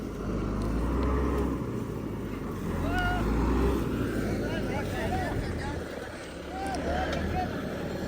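A farm tractor strains at steady, heavy load to pull a dead tree out by its roots with a rope. Its loud engine drones continuously, rising and dipping slightly, with voices talking over it.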